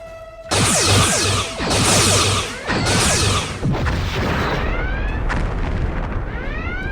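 Starship weapons fire in a sci-fi audio drama: a loud burst of heavy booming laser blasts in several pulses, followed by rumbling impacts and descending whooshing sweeps, up close and with no speech.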